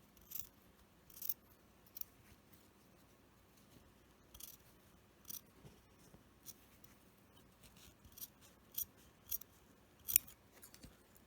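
Scissors snipping through fabric to cut out a neckline for a plush doll, soft close intermittent cuts in small bursts, quiet and unaccompanied by talk.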